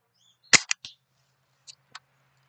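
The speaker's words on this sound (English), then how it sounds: "Cock it back again." A Buck Jones BB gun is cocked with a sharp metallic snap and a couple of quick clicks, then two softer clicks follow, close up against near silence.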